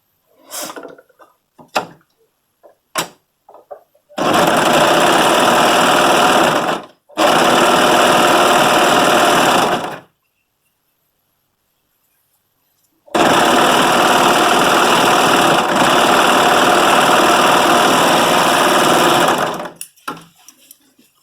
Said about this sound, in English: we're going to serge along here